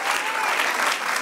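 Congregation in a church service applauding, a dense, energetic burst of many hands clapping together, close and loud throughout the short moment with no pauses.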